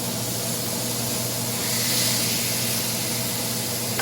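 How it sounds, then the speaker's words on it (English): Pork shoulder sizzles in a hot pan after being flipped, a steady, loud hiss of spattering fat running unbroken throughout with no talk. "Here's a sizzle."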